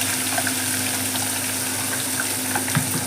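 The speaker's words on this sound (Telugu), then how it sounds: "ఇలా పీసులు వేసి మంచిగా ఫ్రై చేసుకోవాలి" Apollo fish pieces frying in a pan, a steady close sizzle with faint crackles and pops throughout, no voices.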